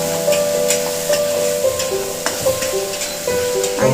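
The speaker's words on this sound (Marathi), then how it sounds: "आता ह्याच्यामध्ये मी आलं, लसूण आणि कोथिंबीरीची पेस्ट घालून घेते. हे चांगलं मिक्स करून घ्यायचं" Ginger, garlic and coriander paste being stirred into fried onions for masale bhat, with a steady sizzle under repeated spoon scrapes against the pan, close and moderately loud, with no talking.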